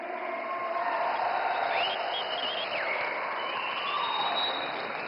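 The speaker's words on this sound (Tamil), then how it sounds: "கைத்தட்டல்" Dense, sustained applause from a large crowd at a farmers' welfare event in Coimbatore, India, addressed by Prime Minister Narendra Modi, even and continuous throughout, with a few faint whistles or calls rising above it.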